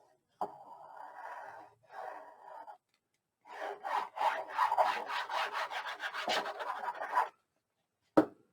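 Burnishing a glued paper piece in a Christmas craft album, close dry rubbing strokes in short bursts, two brief passes then a longer run of rapid back-and-forth scrubbing, ending with a sharp tap.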